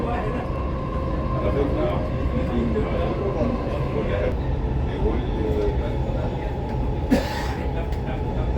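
Dubai Metro train running near the Red and Green Line interchange station, a steady rumble and hum of the rail cars with a brief sharp hiss near the end, while a person coughs or clears their throat faintly.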